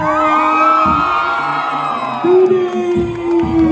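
A stadium crowd cheers and whoops for the host regency of Pidie at the opening ceremony of Aceh's PORA XIV sports games, loud and close, with a brief shouted name and a sustained horn-like tone.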